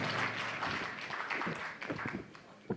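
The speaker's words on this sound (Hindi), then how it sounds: "जोरदार तालियों से इस्तकबाल कीजिए" Audience applause welcoming a poet to the stage at a mushaira, a dense, steady clatter of many hands clapping throughout, with a few louder individual claps near the end.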